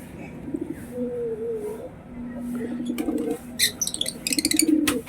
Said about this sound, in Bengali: আজ সকাল সকাল পায়রাগুলোকে ছেড়ে দিয়েছি, কারণ আজকে অতটা হাওয়া চলছে না। এই দেখো পায়রাগুলো সব বাইরে।